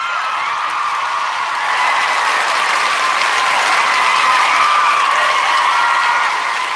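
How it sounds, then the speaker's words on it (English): A podcast audience gives itself a round of applause, a steady and fairly loud wash of clapping that swells slightly midway and keeps going without any talk over it. "y'all give yourselves a round of applause."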